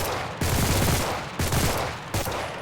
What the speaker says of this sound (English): a Thompson, if you try and burst fire, will go like that